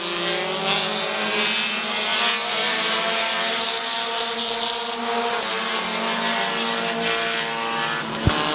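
Race cars roar around Midvale Speedway, several engines droning and overlapping in a loud continuous blend of rising and falling pitches, with a sharp knock near the end.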